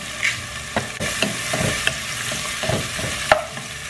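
A spoon stirs beef stew with pepper in a frying pan, making a steady close sizzle broken by several distinct scraping strokes, with no talking.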